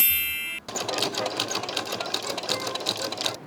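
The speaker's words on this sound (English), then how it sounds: "right now I'm sewing over the straps and really reinforcing them, going backwards and forwards over them" A sewing machine runs continuously in quick, even stitching bursts as it goes back and forth over fabric straps to reinforce them, starting abruptly after a brief lull and staying loud and close.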